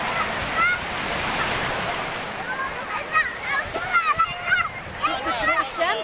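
Sea waves wash and splash at Ras El Bar beach at sunrise, a continuous surf hiss with sharper splashes, while people talk nearby.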